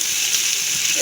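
Capsicum and onion frying in a covered pan over low heat, giving a steady, even sizzle, brief and alone.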